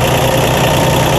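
A 1993 Toro Groundsmaster 325d mower's Mitsubishi K3D diesel idles close and loud, a dense steady rumble with an even low chug and no voices.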